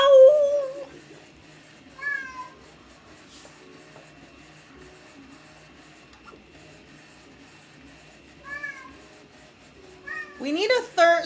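A cat meows and whines to be let out, with several short rising cries spaced apart across a quiet room and a louder cluster of whines at the end, close by.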